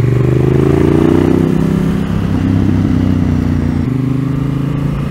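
A motorcycle riding through a curve hums steadily nearby, its pitch easing down then holding level as it rolls along, with slight shifts in tone.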